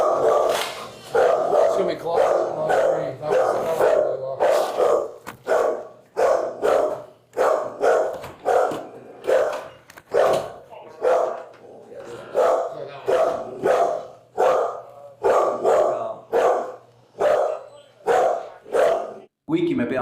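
A dog barks repeatedly and loudly nearby, sharp evenly spaced woofs in a long steady series with brief gaps between them and no other sounds competing.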